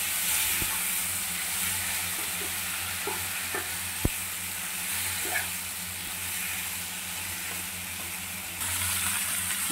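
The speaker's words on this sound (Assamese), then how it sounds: "মাংসখিনি দি লৈ মই ভালদৰে লৰাই দিম।" Pigeon meat being stirred in a hot frying pan over lowered gas, a steady broadband sizzle with scattered scraping clicks of the spoon and one sharp knock, close and continuous with no talking.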